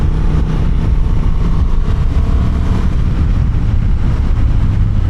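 A Honda Transalp 750 motorcycle in sport mode, its engine pulling hard and revving high around 6,000 RPM, with a loud, steady drone and rushing wind noise throughout.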